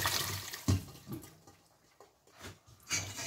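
Hot broth for a winter cheese soup with leek, potato and minced meat is poured through a sieve, giving splashy liquid pours in uneven bursts, fairly faint and close, with quiet gaps between.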